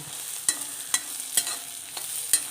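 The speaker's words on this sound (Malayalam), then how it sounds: "കൂടെ തന്നെ വറ്റൽ മുളക് ഇട്ട് കൊടുക്കുക നന്നായിട്ടൊന്ന് മൂത്ത് വരണം" Dried red chillies and urad dal roasting in a pan, with a faint sizzle and a spatula tapping and scraping the pan about every half second, with no talking.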